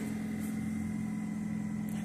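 A 2013 Dodge Avenger SE with a 2.4 liter four-cylinder engine idles steadily, a smooth continuous low hum with no talking.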